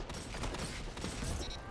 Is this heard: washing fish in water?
no